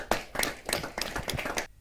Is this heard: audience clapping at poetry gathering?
yes